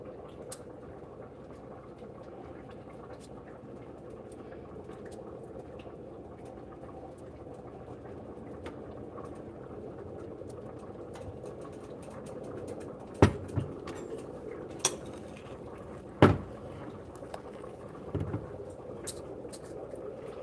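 A pot of chili bubbles at a low, steady simmer throughout, with a couple of sharp clinks partway through and no talking.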